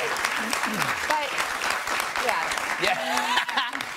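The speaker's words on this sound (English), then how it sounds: "That was sucker applause." A studio audience applauds on a television talk show, a dense steady wash of clapping heard together with talk over it.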